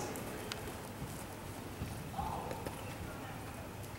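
A horse trots in a dressage arena, its hooves giving a steady rhythmic clip-clop beneath a continuous noisy background, with a trainer's voice speaking over it.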